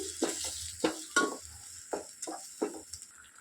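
Tomatoes cooking in a pan for cauliflower curry: a steady sizzle runs throughout, broken by several short, sharp scraping stirs of a spoon against the pan at irregular intervals, close and fairly quiet.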